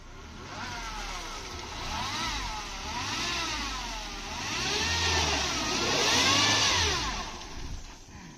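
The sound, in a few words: cars driving on a waterlogged road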